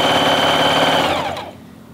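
A sewing machine stitches fleece at full speed with a loud, rapid mechanical whir and clatter, then winds down and falls quiet as it stops.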